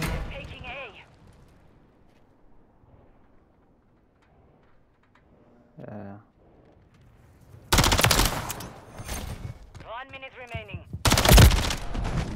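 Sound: gunfire in a video game

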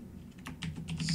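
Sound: typing on a computer keyboard

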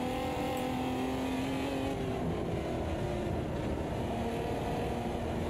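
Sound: race car engine revving in Automobilista 2 video game

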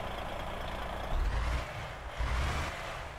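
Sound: truck engine in Euro Truck Simulator 2 video game

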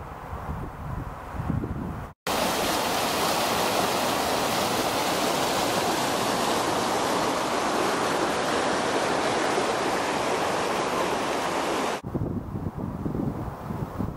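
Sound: river navigation flowing strongly

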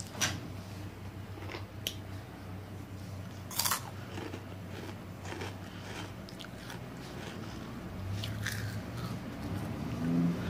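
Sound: chewing Flamin Hot crunchy Cheetos

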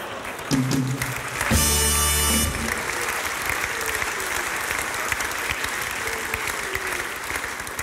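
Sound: applause

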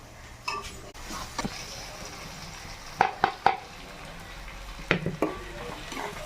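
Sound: spices stirred and frying in ghee for Nellore fish curry

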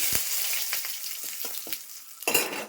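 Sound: dry chillies, cumin, cardamom and bay leaf frying in hot pan

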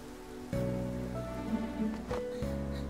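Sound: rain in the video game Persona 5

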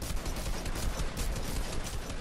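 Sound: gunshots in the video game Fortnite

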